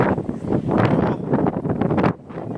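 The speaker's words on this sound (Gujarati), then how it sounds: "એવો પવન છે. 130 સ્પીડે પવન ફૂંકાઈ રહ્યો છે." Strong wind at Dwarka, around 130 km/h, roars and buffets against the microphone in loud, gusty waves, dropping off briefly near the end.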